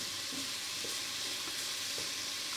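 Hickory smoked bacon sizzles and crackles in a frying pan, a steady close hiss with occasional soft pops and no voices.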